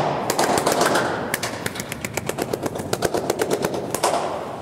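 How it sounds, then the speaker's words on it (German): Rapid hand claps inside an acoustic art installation at the C-Mine site in Genk, Belgium, each clap cracking sharply like a gunshot and ringing out in a fast, echoing burst. "das Klatsch klingt wie Schüsse"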